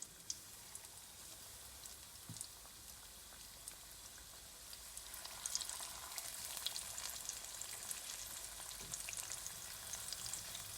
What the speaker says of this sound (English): I'm going to go ahead now and I'm frying my chicken drums in that beautiful